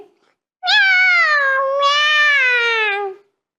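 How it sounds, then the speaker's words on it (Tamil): One long, loud meow from a nearby cat, drawn out for about two and a half seconds with a rising then falling pitch, with no other sound. "பூனை மட்டும்தான் நிறைய சாப்பிட்டுட்டுது அதான் சத்தமா கத்துது"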